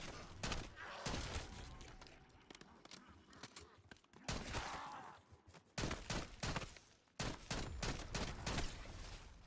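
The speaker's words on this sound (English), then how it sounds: "Crystal traces, so it's shooting crystals" Bursts of weapon fire with crystal tracer effects in Black Ops 6, loud repeated volleys with brief pauses between, mixed with glassy shattering impacts.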